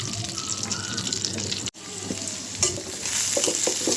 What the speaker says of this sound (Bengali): পেঁয়াজগুলো একটু লাল করে ভেজে দেবো।